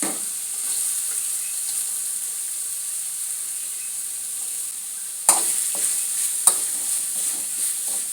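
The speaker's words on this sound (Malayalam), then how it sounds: "പച്ചമുളക് മൂത്ത് വരുമ്പോൾ നമുക്ക് ബീറ്റ്റൂട്ട് ഇടാം." Beetroot and green chillies frying in a pan, a steady bright sizzle with occasional sharper crackles and stirring clatters near the end, close and continuous with no talking.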